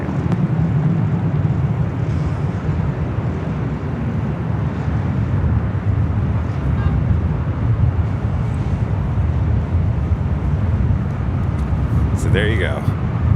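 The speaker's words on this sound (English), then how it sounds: "Oh, it got windy all of a sudden." Wind gusts outdoors at an LAX plane-spotting spot, buffeting the microphone with a steady, heavy low roar for the whole stretch, mixed with distant aircraft noise and a brief radio chirp near the end.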